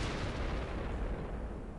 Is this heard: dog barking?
no